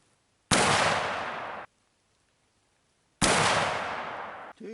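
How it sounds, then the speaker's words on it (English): Two loud .44 caliber revolver shots fired at a paper target, each a sharp blast with a ringing decay lasting about a second, separated by a few seconds of silence. "And we'll go ahead and shoot again at the paper target."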